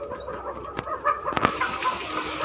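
Chickens being caught by hand on a farm give short, scattered clucks and squawks, fairly close, with some rustling and handling noise around them.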